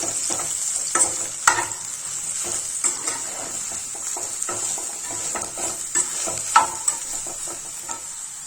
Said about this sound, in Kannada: ಎಣ್ಣೆ ಬಿಸಿ ಆಗೈತಿ ಇವನ್ ಸೋಯಾಬೀನ್ ಇದಕ್ಕೆ ಹಾಕೊಳತ್ತೀನಿ ಒಂದೆರಡು ನಿಮಿಷ ಎಣ್ಣೆಯೊಳಗೆ ಫ್ರೈ ಮಾಡ್ಕೊಳ್ಳೋಣ